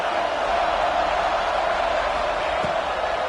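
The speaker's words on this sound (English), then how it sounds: "This crowd, full throat, splitting the eardrums and letting them know it's going to be a long day." A football stadium crowd roars at full throat during a scrimmage, a dense, steady, loud wall of noise that holds without a break.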